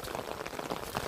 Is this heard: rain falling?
yes